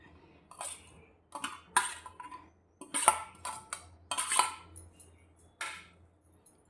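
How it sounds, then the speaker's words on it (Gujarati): Chopped cabbage is tipped into a bowl in several separate bursts of crisp rustling and light clatter, with quiet gaps between the pours. "ત્યાર પછી આપણે જે કોબી સમારી હતી તે પણ બાઉલમાં નાખી દઈશું"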